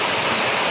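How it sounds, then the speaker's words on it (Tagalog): Heavy rain pouring down steadily outdoors during a sweet potato harvest near a hut, a dense, continuous broadband hiss with no voices. "bigla nang lumakas yung ulan"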